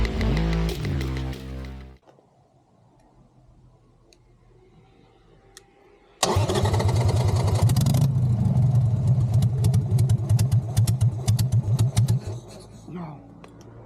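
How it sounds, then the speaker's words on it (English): Weekend traffic on a road in Mexico: a vehicle hums past, a quiet lull follows, then a loud, close engine roar with rapid ticking rises and fades away. "It's the weekend, and that's why there are a lot of cars passing by."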